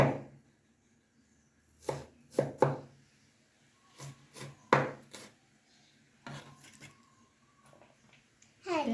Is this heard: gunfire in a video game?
no